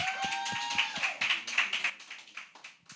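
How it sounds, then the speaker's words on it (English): Audience applause at a tech product launch event in Africa, a short stretch of scattered clapping with a brief tonal sound at the start, tapering off at the end. "Can we just give her a hands of applause?"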